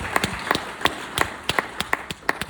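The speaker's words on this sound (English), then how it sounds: "Round of applause. Sound of applause." Audience applause in the Rex theater in Galax, sparse individual claps ringing out in an uneven rhythm, sharp and fairly near, with no voices over them.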